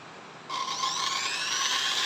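An INGCO impact drill whirs up to speed and holds a steady, high-pitched motor whine, starting abruptly after a brief pause and running on close and loud.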